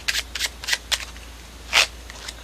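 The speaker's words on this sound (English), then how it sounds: "A shuffle." A deck of playing cards is shuffled close up in a series of crisp riffling bursts, about five quick rattles followed by one longer, louder riffle, with no talk.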